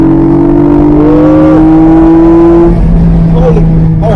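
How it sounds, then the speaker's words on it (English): A 2022 Porsche 718 Boxster Spyder engine drones loudly and climbs in pitch as it accelerates, with a steady rising whine, then eases off as a voice speaks briefly over it. "the engine sounds so good"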